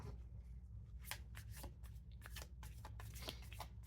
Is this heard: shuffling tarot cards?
yes